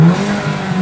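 A modified Audi A3 engine, fitted with a Forge adapter, drones in a brief steady mid-pitched rev with no voices over it.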